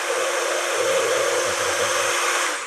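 A hair dryer blows steadily and loudly throughout, a constant airy roar with a slight hum, used while blending sectioned hair with the AirTouch technique.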